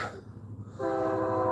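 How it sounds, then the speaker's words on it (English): A train passes at night, a low rumble building into a steady, loud horn-like tone that holds for the last second. "That's a train."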